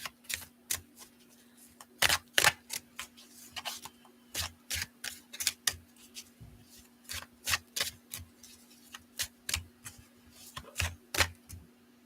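Tarot cards shuffled repeatedly at close range, a fast train of crisp, snapping flicks in uneven bursts with short pauses between, over a faint steady background hum and no talking.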